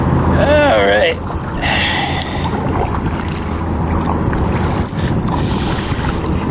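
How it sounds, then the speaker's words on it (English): Kayak paddling on the Connecticut River near Hartford, with steady wind and water wash running throughout and faint paddle splashes, while a person speaks briefly near the start. "Here's some shaky footage of me paddling near Hartford."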